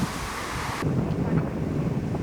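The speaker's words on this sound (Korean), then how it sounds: "바람이 많이 불어요." Strong wind blows outdoors during a walk, a steady roar buffeting the microphone throughout with no pauses.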